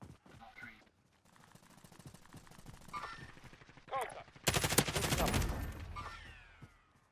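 Video game gunfire rattles in rapid automatic bursts, building from scattered shots under talk to a loud, sustained volley near the end, with people talking throughout.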